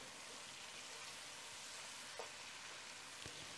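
Turmeric, chili powder, grated orange rind and ginger juliennes fry together in a pot for a Bengali koi fish dish, giving a quiet, steady sizzle with a couple of faint clinks and no talk.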